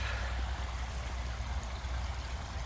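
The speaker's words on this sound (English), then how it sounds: "So we thought, let's build a waterfall." Water streams down a backyard pondless waterfall built from rocks and stones, a steady, broad rushing and trickling sound with no pauses, fairly close and constant throughout.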